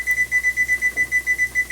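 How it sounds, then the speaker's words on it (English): A kitchen timer beeps loudly in a rapid, steady pulse of short, high, even tones with no talking, set to time soaking barley for a Swiss chard, barley, pancetta and cannellini bean soup. "So I'm going to put my timer on for 40 minutes,"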